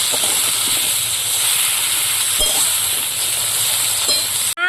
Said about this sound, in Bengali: এবার লবণ হলুদ দিয়ে ভালো করে সবজিটা কষিয়ে নেব।